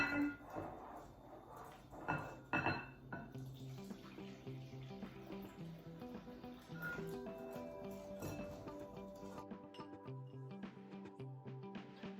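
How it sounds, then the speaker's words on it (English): Hot milk whisked into a sugar, flour and salt mixture for custard cream filling, with liquid sloshing and a whisk clinking against the bowl at first, then a softer steady swirl, faint and close with no talking. "So go ahead and slowly add that to your sugar mixture. Whisk it together."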